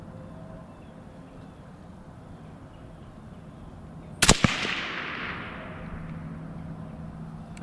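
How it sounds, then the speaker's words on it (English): A Mossberg Patriot Predator rifle fires a single sharp, loud shot of a Hornady 140 load at a 100-yard range, a cracking report with a quick echo that trails off into a lingering outdoor decay against quiet background hiss. "I'm gonna be shooting 3-shot groups."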